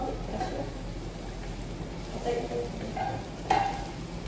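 Steady soft sizzling of food frying in a pan, a continuous crackly hiss with a few brief clinks and stirring sounds on top.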